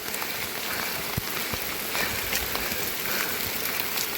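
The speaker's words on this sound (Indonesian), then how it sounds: "Sekarang dari pos 2 ke pos 3 tiba-tiba hujan." Steady rain falls on a mountain hiking trail between trail posts, a dense, even hiss with scattered drops tapping nearby, heard alone with no voices.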